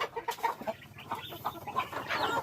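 About 60 farm chickens clucking and squawking together in a busy, overlapping chorus, nearby and fairly loud, with no talking.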